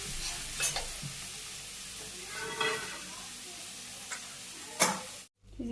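Fish frying in hot oil, a close steady sizzle punctuated by several loud clattering bursts as pieces are moved in the pan, ending with a brief cutout.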